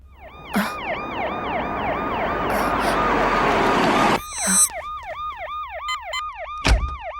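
A police car siren wails loudly in a repeating rising-and-falling pattern as the car arrives, at first over a heavy broad roar that cuts off, then alone, with a sharp thud near the end.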